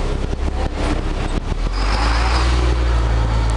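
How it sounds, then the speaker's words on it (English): A bus drives past on a busy street, its engine rumble building into a loud, steady roar close by, with traffic noise all around and no talk. "Natalie, bus. I just saved your life"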